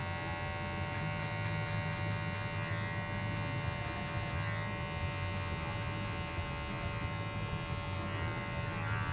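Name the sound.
Gamma Plus Alpha trimmer blending beard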